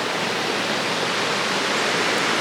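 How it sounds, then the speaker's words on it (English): Rapids in a creek in the Great Smoky Mountains, along Little River Gorge Road, rush in a loud, steady, broadband roar of churning water that stays constant and close with no other sounds. "It's just some rapids in the creek, but it looked really pretty,"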